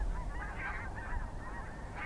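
Snow geese honking as a flock passes overhead at dusk over water, a steady overlapping chorus of calls at moderate distance with no one talking.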